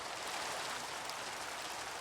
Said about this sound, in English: sounds like rain. Very cool.